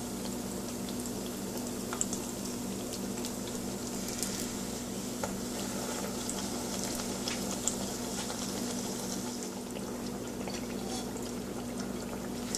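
A rice pancake frying in a pan for the Mangalorean sweet Ataa Rasaa sizzles steadily at close range, a continuous greasy crackle that holds even and unbroken throughout.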